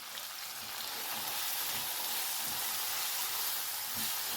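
Ginger garlic paste with haldi and coriander powder sizzling in a hot pan for a tamatar methi sabzi, a steady close frying hiss throughout with no talking.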